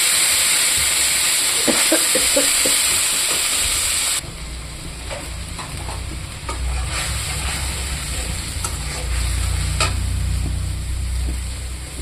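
Tomato frying in a pan with ginger, green chilli, cumin, panch phoron and bay leaf gives a steady, close sizzling hiss, with stirring scrapes and clicks running through it and the frying growing louder partway through.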